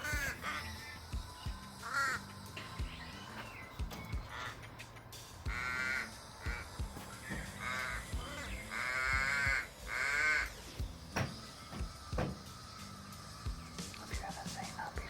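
Several crows caw repeatedly outdoors, harsh calls in clustered bursts of varying loudness, some near and some farther off, over faint background noise.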